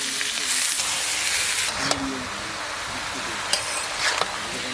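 Cabbage goes into a hot pan in a village kitchen, producing a continuous loud hiss and sizzle with a few sharp crackles popping through.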